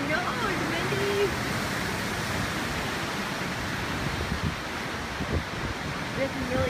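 Strong wind roars across an open spot in Malibu with a horse nearby, a dense, gusty rush that stays loud throughout, and faint voices are heard beneath it.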